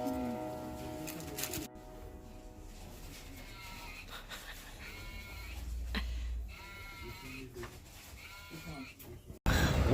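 Sheep bleat in a field near Dunedin, New Zealand, with several bleats from nearby animals spread across the stretch amid outdoor background noise.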